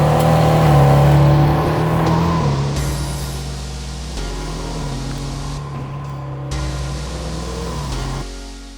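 A Ferrari F430 Spider's engine revs loudly up close, a deep steady drone with pitch dips and swells through repeated blips of the throttle.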